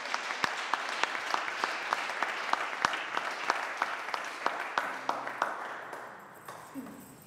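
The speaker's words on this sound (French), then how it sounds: "que vous demandi d'applaudir de cum cau la jeunesse de Bigorre." Applause for young performers from Bigorre at an Occitan carnival show in Pau, a moderate crowd clapping with some sharp individual claps standing out, fading near the end.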